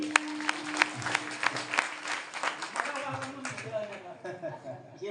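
An audience at a Marathi kirtan breaks into applause, a burst of rhythmic clapping that starts loud and sharp, then thins out over a few seconds as a voice begins talking over it.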